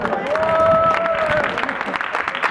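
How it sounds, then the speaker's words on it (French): An audience at a mock United Nations simulation award ceremony applauds as a prize is announced. The clapping is steady and crowd-wide, with a sustained tone running through the first half. "on applaudit bien fort"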